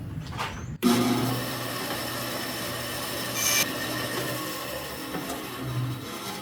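A bandsaw running a test cut through wood, a steady loud mechanical whir and hum after a sharp start, with a brief brighter surge partway through as the blade bites, continuing evenly to the end.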